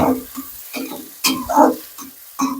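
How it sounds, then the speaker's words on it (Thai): Squid stir-frying with herbs in a pan, with a spatula scraping and tossing in irregular bursts over a light sizzle, close and moderately loud, no talking. "ไอ้หมึกนี่ไม่ต้องผัดนานนะ"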